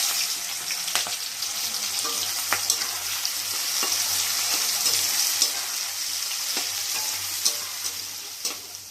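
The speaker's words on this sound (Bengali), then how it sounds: "পেঁয়াজটা ভাজা হয়ে গেছে।" Onions sizzle and crackle in hot oil as they deep-fry into beresta for chicken biryani, a steady close frying hiss with occasional stirring scrapes and no talking.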